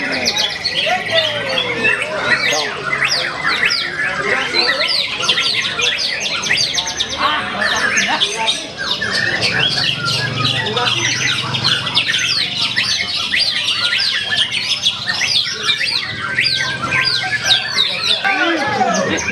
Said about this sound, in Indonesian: Ini kenari ini.